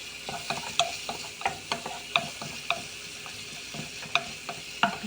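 Corn added to a sizzling pan and stirred, a soft frying hiss under rhythmic spatula strokes that tick and scrape every half second or so, close by and moderately quiet.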